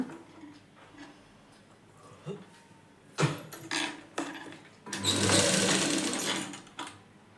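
Scattered light clicks and taps of handling lead into a loud, close run of a sewing machine stitching the front of a size 36 blouse, lasting under two seconds before stopping.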